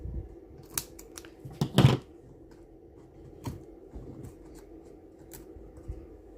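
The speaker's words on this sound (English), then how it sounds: "so I'm just going to trim that piece off" Scissors trimming excess plastic: a few quick, crisp snips close up, one louder cluster of cuts near the middle, otherwise quiet.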